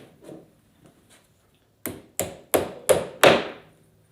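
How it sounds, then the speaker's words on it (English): A hammer strikes a nail into wood five times in a steady rhythm, close and sharp, after a few faint taps, while building a kit candy machine. "go ahead and hammer those in"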